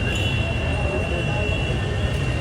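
A train nearing a level crossing makes a loud, steady, broadband rumble with a thin sustained tone running through it, filling the whole moment without pause.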